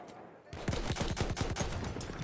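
Rifle gunfire in Battlefield 1 starts abruptly after a quiet moment, with rapid successive shots in a rhythmic volley, loud and near, mixed with battle noise.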